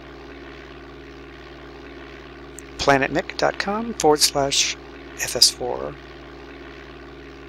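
Propeller airplane engine in Microsoft Flight Simulator 4, a steady low hum running continuously under a man's speech, which stays prominent in the middle.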